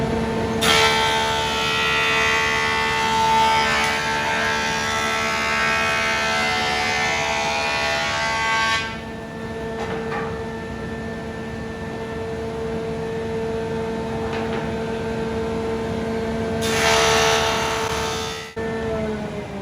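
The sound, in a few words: vacuum cleaner running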